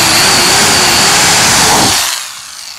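Power drill boring a pilot hole in birdhouse wood, a loud close high-pitched whine held steady for about two seconds before spinning down and stopping.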